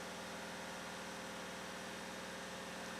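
A Chevrolet Beat diesel engine, suffering from overheating, runs steadily at slightly raised revs, giving a close, even hum with a low throbbing beat and no voices throughout.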